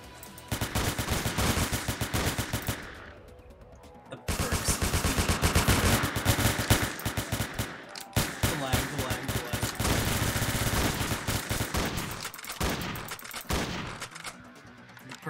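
Gunfire in the Roblox game Entry Point during a mercenary run, sustained rapid automatic bursts with brief pauses around reloads, loud and close.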